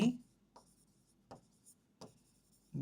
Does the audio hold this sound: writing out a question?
yes